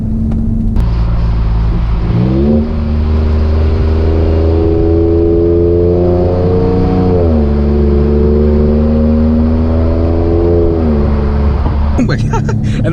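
Ford F-150 Raptor with a 3.5-liter EcoBoost V6 accelerating from inside the cab, a loud sustained engine drone that rises in pitch through several gear changes, dipping at each shift.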